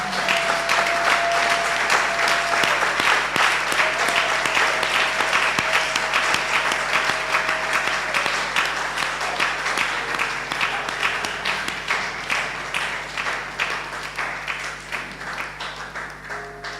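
A church congregation claps together as an offering of praise to the Lord, sustained applause that stays dense and even, then eases slightly toward the end, with a faint tone held underneath.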